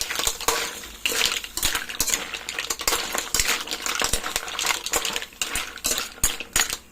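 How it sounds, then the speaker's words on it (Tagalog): A spoon stirs a mussel dish seasoned with pepper powder inside a metal pot, making repeated clinks and scrapes in a loose, uneven rhythm, close and fairly loud. "Halo natin"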